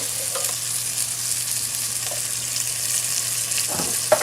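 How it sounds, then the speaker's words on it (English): Meat and tomato sauce for an Italian Napolitana ragu are stirred in a hot pot. A steady sizzle runs throughout, broken by a few spoon scrapes and clinks toward the end. "Keep mixing it, move things around so everything gets cooked."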